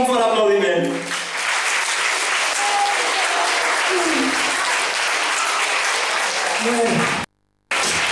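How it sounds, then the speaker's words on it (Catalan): Loud, sustained crowd applause at a Catalan town festival (festa major), continuous from start to end with a brief voice at the beginning, cutting off abruptly near the close. "donem un fort aplaudiment"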